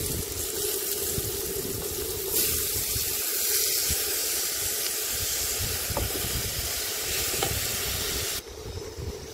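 Grated carrots for gajar halwa fry and stir in ghee with cardamom in an outdoor picnic setting, giving a steady close hiss and sizzle with scraping stir sounds throughout, no talking.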